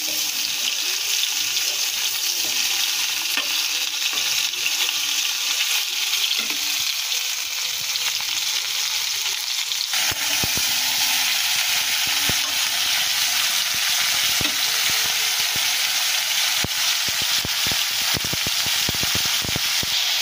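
Vegetarian ridge gourd curry sautés in a pan with a steady, close sizzle and hiss that grows noticeably louder and busier about halfway through, with faint stirring clicks and no talking.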